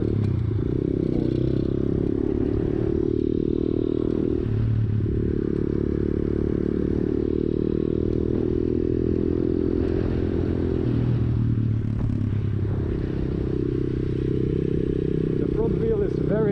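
A 125cc pit bike engine drones close and loud, its pitch climbing and dropping as it shifts up through the gears, with clattering and a voice talking over it.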